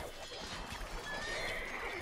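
Horses neighing and whinnying with clip-clop hooves amid a cavalry skirmish in Age of Empires, heavy cavalry and cavalry archers clashing in the Genghis Khan campaign; steady mid-level game sound with speech faintly underneath.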